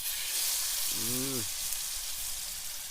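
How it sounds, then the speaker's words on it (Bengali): Meat frying in hot oil in a wok on a clay stove at a night picnic, a steady, fairly faint sizzle and crackle throughout, with a short voiced sound in the middle. "কড়াইতে তেল দিয়ে একটু গরম করছে, হালকা গরম, এখন মাংস দিয়ে দিচ্ছে।"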